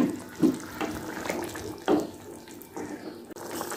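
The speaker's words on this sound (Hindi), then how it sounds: "अभी आप शोरबे के लिए थोड़ा सा इसमें पानी डाल दीजिए" Water splashes and pours into a pot of beef masala kaleji for the gravy in short bursts, a close, gurgling trickle with brief louder splashes.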